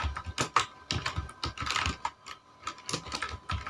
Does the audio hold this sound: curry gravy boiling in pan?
no